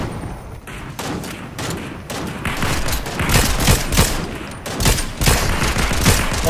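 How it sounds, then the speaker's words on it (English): Rapid bursts of gunfire from a Fortnite match, dense overlapping shots and booms filling the whole stretch at loud, steady level with no talk over them. "I'm starting to shoot back at them now"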